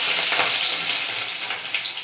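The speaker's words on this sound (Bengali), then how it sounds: "কড়াইতে সরিষার তেল আর শুকনো লঙ্কা ফোড়ন দিয়েছি, আর দিয়ে দিলাম" Garlic hits hot mustard oil with dried red chillies in a kadai, giving a loud, steady crackling sizzle that runs without a break and with no voices.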